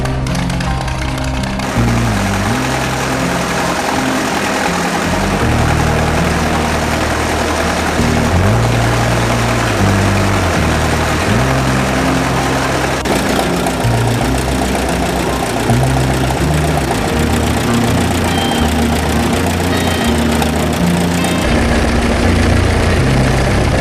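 A red McCormick Deering tractor, built after 1936, runs its engine with a steady, loud, knocking chug that rises and dips in uneven bursts, close by and without talk.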